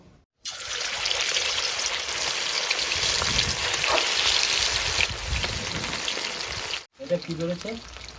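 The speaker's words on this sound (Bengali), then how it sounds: "এবার আমি চিকেনগুলো ফ্রাই করে নেব" Chicken frying in hot mustard oil in a wok gives a loud, continuous hiss and sizzle over several seconds, cutting off abruptly near the end, with brief talk afterward.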